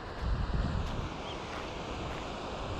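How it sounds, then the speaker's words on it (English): Waves washing on a wild North Sea shore in Scotland, a steady broadband rush with a slightly louder surge at first, heard at a distance under wind noise on the microphone, with no talking. "There's a lot of waves today down here."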